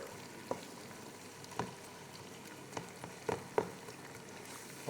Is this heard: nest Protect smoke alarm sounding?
no